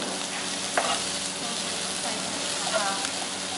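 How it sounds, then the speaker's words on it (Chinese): Chicken stir-fried in a wok gives a loud, even, continuous sizzle, with an occasional light clack of the spatula against the wok. "再放鸡肉， 炒一炒，"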